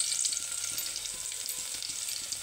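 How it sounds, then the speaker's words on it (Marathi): Garlic fries in hot oil for a drumstick curry, a steady close sizzle and crackle with faint stirring taps underneath, no voices. "आता आपण यात लसूण टाकणार आहोत ब्राऊन होईपर्यंत"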